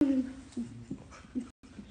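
A small dog whimpers softly in a few short, high whines close by, with brief pauses between them.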